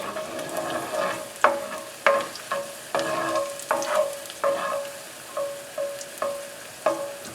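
Moose meat fries in hot oil with a steady sizzle while a utensil knocks and scrapes against the pan in repeated, fairly regular strokes, loud and close.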